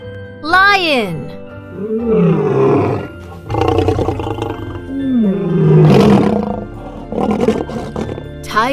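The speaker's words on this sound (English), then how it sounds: "Lion." A lion roars repeatedly in loud, deep, groaning bursts with rising and falling strain, close and unaccompanied by speech.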